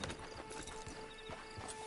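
Horse hooves clip-clopping at a steady walking rhythm in Red Dead Redemption 2, close and fairly quiet over a constant ambient bed with a faint tonal hum.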